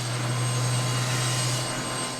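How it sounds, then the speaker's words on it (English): A Customs and Border Protection Black Hawk helicopter starting its engine in Tucson, Arizona, producing a steady turbine whine over a low, constant drone with a persistent high tone, loud and continuous. "Engine start of the Blackhawk Helicopter"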